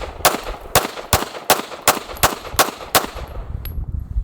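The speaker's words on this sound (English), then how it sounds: "Let's just go ahead and dump 9 rounds of each and see what happens." Nine rapid handgun shots, 9mm and .45 ACP rounds fired in quick even succession, loud sharp cracks about half a second apart, then a brief quiet tail.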